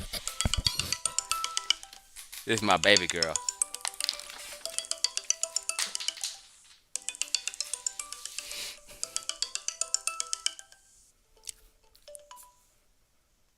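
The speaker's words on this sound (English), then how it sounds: "I got a phone call coming in right now." A phone rings with an incoming call, a repeating electronic ringtone pattern cycling for several seconds, fairly loud and close, with brief speech near the start.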